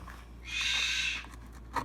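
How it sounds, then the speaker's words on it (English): Pet bird in a home kitchen giving one loud, drawn-out, shrill call lasting under a second, followed by a brief sharp chirp, close by and alone. "Don't mind the bird. Bird can be a little loud."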